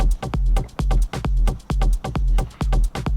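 Techno beat from a portable two-box setup, with a thumping kick drum driving a steady four-on-the-floor pulse under layered percussive hits and a deep bass tone, loud and close.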